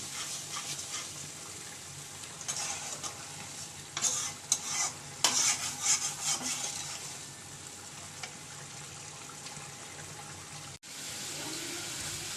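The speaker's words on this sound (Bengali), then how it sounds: "আর এদিকে কড়াই বসিয়ে দিয়েছি, মশলাগুলো কষাচ্ছি" Spices are sautéed in a wok with a continuous soft sizzle, while a cluster of scraping stirring strokes rises in the middle before the frying settles back to a steady hiss.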